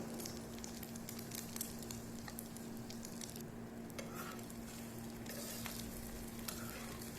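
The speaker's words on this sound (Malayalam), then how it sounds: "ഇനി മുട്ട നമുക്കിതിലേക്ക് ഒഴിച്ചു കൊടുക്കാം" An egg frying in hot olive oil in a pan gives a steady, close crackle and sizzle. Small pops and spatters run throughout, with no voices.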